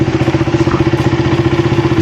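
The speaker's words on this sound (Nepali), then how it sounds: "अब अमृतले चाहिँ हैन बाइक निकाल्दै छ" A motorcycle engine idles loud and close at night as the bike is brought out from a house, with a steady rapid thumping pulse and a mechanical clatter and no voices.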